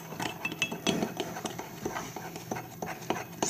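A spoon stirs mug cake batter in a mug with light, irregular clinks and scrapes. The sounds are fairly quiet and close.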